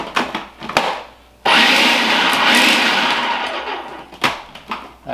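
A blender pulses a cherry puree with lime juice, roaring loud and steady for about three seconds after a few short clicks and bumps, then cutting off.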